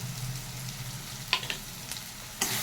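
Tomato paste cooks in a pan with salt, turmeric and chilli powder, giving a low continuous sizzle broken by a few short clinks and scrapes. No voices.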